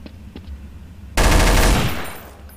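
A loud, close burst of automatic gunfire in Counter-Strike: Source starts suddenly after a quiet stretch of game ambience, runs for about a second as a dense rattle, then fades out.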